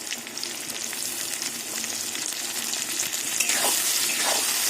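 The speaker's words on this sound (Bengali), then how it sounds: "টমেটো আর পেঁয়াজ ভালো করে আবার ভেজে নেব" Onions and tomatoes, with a little salt, fry in oil in a pan, producing a continuous crackling sizzle with scraping stirring sounds that grows slightly louder toward the end.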